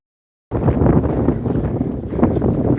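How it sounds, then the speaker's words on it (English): Strong wind gusting across a microphone at a marina, a loud, continuous rumbling roar that starts abruptly after a brief silence and buffets unevenly throughout, with no talk. "So look how windy it is."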